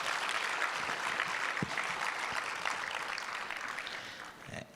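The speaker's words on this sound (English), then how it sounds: "One last round of applause, a good one this time." A conference audience applauds in a dense, even wash of clapping that holds steady and then eases off slightly at the end.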